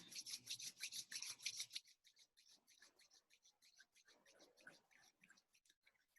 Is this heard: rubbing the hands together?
yes